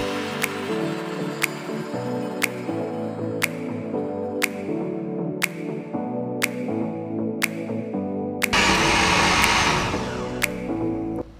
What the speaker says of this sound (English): Now you want to make sure you blend this until it is extremely smooth